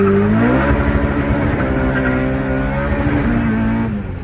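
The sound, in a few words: 315 horsepower car accelerating hard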